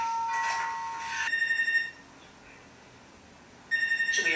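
A telephone rings twice with bright electronic trilling bursts separated by a quiet gap, fairly loud and close, with no speech over it.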